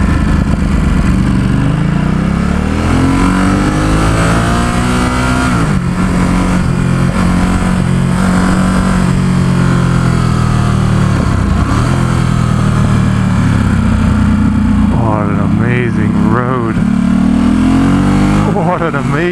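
A 2017 Ducati Supersport S motorcycle ridden along a scenic road near San Francisco, its engine droning loudly and continuously with shifting pitch and wind rush, a rider's voice talking over it.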